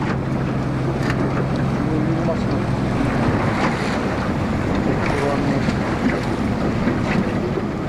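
A boat motor runs at sea off the Chukotka coast during a walrus hunt, a steady engine rumble mixed with heavy wind buffeting and wave noise throughout.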